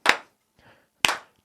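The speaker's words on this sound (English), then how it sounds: "everyone clap" Two sharp claps about a second apart, with a faint soft sound between them, from a small studio audience clapping along on a comedy talk show.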